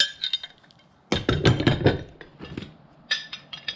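Metal hand tools, including a big pipe wrench, clink and clatter against each other as they are pulled from a handyman's tool bag, with scattered sharp knocks and a denser jangle in the middle.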